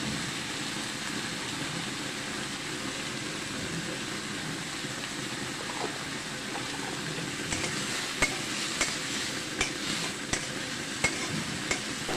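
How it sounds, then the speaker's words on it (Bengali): Chopped tomato with a little salt cooking in a pan for a vegetarian papad curry, giving a steady soft sizzle with light stirring scrapes that turn into a few sharper clicks near the end. "এরপর অল্প একটু লবণ দিয়ে টমেটোটা সেদ্ধ হতে দিয়ে দিচ্ছি"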